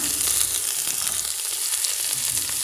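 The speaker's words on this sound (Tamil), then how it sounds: "எல்லாத்தையும் நல்லா வறுத்துக்கோங்க நம்ம வெங்காயத்தை சேர்த்துடலாம்" Onions and peanuts frying in oil for a Tamil mixed vegetable poriyal, a steady dense sizzle that stays close and fairly loud for the whole stretch, with no talk over it.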